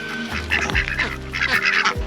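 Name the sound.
ducks honking while being fed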